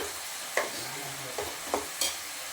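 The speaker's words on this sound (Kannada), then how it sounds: "ಹಾಗಾಗಿ ಚೆನ್ನಾಗಿ ಒಂದು ಮಿಕ್ಸ್ ಕೊಡೋಣ" Raw ground masala is stirred with mushrooms and peas frying in oil, a soft steady sizzle punctuated by a few scraping strokes of the spoon in the pan.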